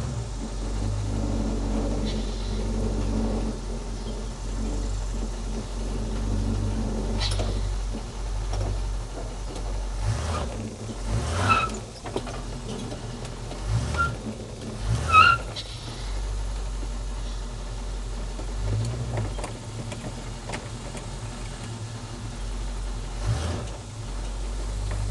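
A 1979 Camaro Z/28 engine idling after a cold start, giving a steady low rumble close by, with a few brief revs swelling above the idle partway through.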